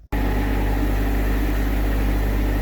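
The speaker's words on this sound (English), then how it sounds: "sorry about the fan noise." A steady, loud mechanical hum with a low droning tone from an electric fan runs without pause close by.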